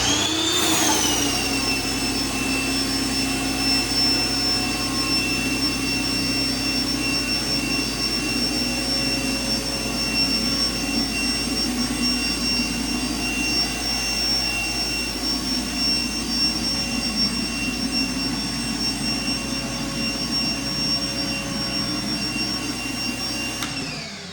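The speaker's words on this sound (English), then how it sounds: "we'll turn on the pressure washer, attach the high pressure wand, and see how this cleans up" Gas pressure washer running steadily with a high-pressure wand cleaning an epoxy-coated garage floor, a loud continuous whine and hiss with engine drone underneath, unbroken and alone throughout.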